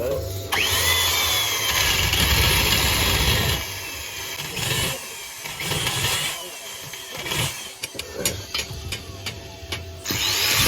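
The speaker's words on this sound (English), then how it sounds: "You have to use a bigger drilling bit." A power drill with a 16mm bit whines loudly and steadily, then cuts in and out in shorter bursts while drilling out a damaged engine bolt, with a person talking briefly between runs.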